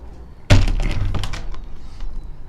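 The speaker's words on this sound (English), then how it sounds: "I like to leave this big door open." A big wooden hen house door swings open with one sudden heavy thunk, followed by a couple of seconds of softer knocks and creaks as it is propped up, close by and with no speech.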